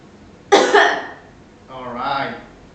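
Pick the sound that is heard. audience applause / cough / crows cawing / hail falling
cough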